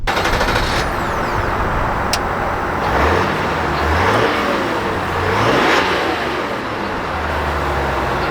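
A 2025 Chevrolet Tahoe's 6.2L V8 accelerates, its engine note rising in repeated surges over road and wind noise inside the full-size SUV.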